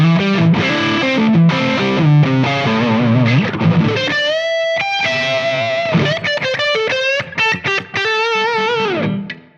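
A distorted electric guitar on the neck pickup, played through a Tonex amp capture, plays a warm, saturated riff, then moves into sustained notes and choppy chord stabs, loud and up front.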